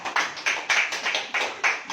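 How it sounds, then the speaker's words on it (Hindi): Hands of a church congregation clapping together in repeated rhythmic bursts, fairly close and moderately loud, with no talking over it. "ताली बजाइए।"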